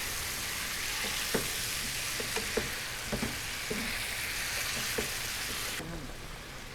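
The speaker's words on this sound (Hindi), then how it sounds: "दही ऐड करने के बाद हमने इसको अच्छी तरह से मिक्स कर लेना है।" Yogurt being stirred into chicken malai boti masala sizzling in oil, with a steady frying hiss under repeated spoon scrapes and clinks against the pan.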